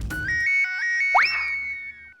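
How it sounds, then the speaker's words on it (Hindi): A short electronic phone ringtone plays, a few bright rising tones followed by a sustained chime that fades out. "कदम का फोन है।"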